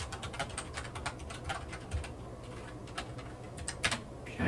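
Fast, irregular keystrokes on a computer keyboard, close but soft, in bursts of clicks with short pauses and a louder cluster near the end; no talk.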